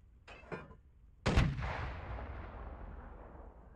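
Cannons fire aboard a medium sailing ship in the video game Sail: a faint first report, then a loud, booming shot with a long rumbling decay, with no talk over it.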